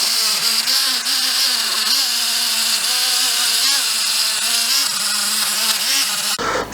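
A Dremel fitted with a brass wire brush grinds steadily at high speed while cleaning the combustion chambers of an MX5 cylinder head, giving a harsh, close whirring scrape that wavers slightly in pitch and then cuts off abruptly near the end.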